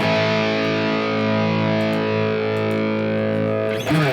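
A distorted electric guitar chord sustains through a Fractal Audio FM9 Brit 800 amp model with resistive load, holding thick and steady for nearly four seconds before a short scrape of noise at the end.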